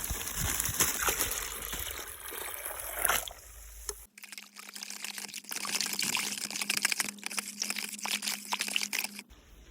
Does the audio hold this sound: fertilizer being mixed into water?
yes